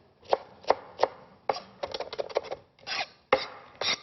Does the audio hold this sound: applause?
no